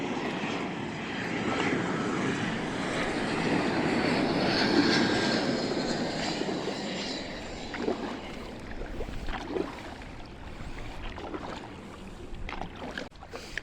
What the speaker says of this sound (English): This is really amazing to see all these airplanes coming in.